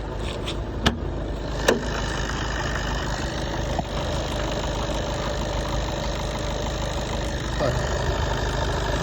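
A 2013 Skoda Octavia 1.6-litre diesel engine idles steadily close by with a low rumbling drone, a couple of sharp clicks early on, and a slight rev near the end.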